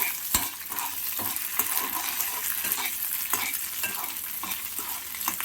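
Onions are fried in oil with salt and stirred in a pan, giving a constant bright sizzle, close and moderately quiet, with scattered light scrapes of the spoon against the pan.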